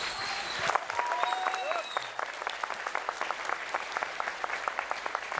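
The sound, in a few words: long applause from audience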